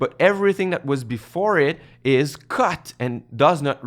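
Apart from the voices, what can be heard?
No distinct noise like a dog, phone or traffic.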